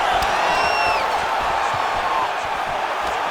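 Crowd at a fight, apparently in a video game, roaring and cheering in a dense, loud wash of voices with a couple of rising whoops near the start.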